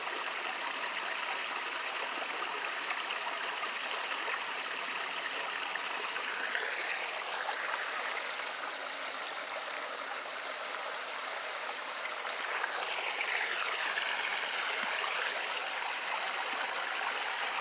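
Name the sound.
flowing water of a stream on a nature walk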